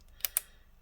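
Prying the keyboard out of a Dell Inspiron laptop produces two sharp, close plastic clicks in quick succession, followed by a quiet lull.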